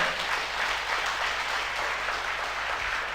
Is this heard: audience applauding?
yes